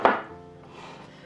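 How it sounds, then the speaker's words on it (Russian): A kitchen knife makes one sharp cut through a medium onion on a cutting board while cutlets are being prepared. It is close and crisp, followed by a quiet room tone with a faint hum. "Дальше я режу лук."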